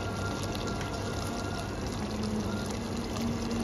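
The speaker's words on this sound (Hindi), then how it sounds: "पेस्ट में 1/2 गिलास पानी डाल दें आप।" Half a glass of water is poured into a pan of potato and minced beef or mutton keema paste, giving a steady, continuous splashing pour with no voices.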